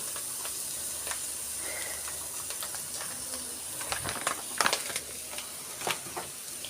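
Lachha vermicelli being stir-fried with powdered milk in a pan, giving a steady soft sizzle with scattered scraping and clinking stirring strokes growing busier toward the end, no voices.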